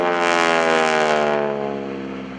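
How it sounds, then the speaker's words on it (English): Aerobatic propeller airplane at the Greenwood Lake airshow, a strong droning engine tone that swells and then slowly fades as the plane passes, heard alone without talk. "Now he's going to bring the airplane around."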